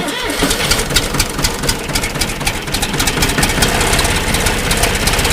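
A John Deere 4230 tractor diesel cold-starts with no ether, cranking into a loud, close, rapid knocking idle that runs steadily throughout.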